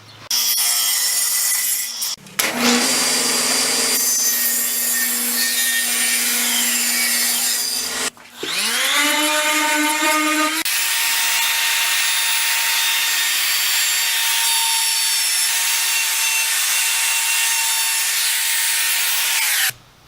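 Strips of 2x8 lumber being cut to final size and their edges rounded over with power tools, a loud continuous buzzing whine of wood machining with several pauses and a rising motor spin-up, no talking.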